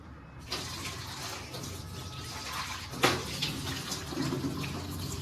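A light bowl is rinsed under a running tap in a home kitchen, with a steady stream of water splashing throughout and a brief louder splash partway through, close and continuous.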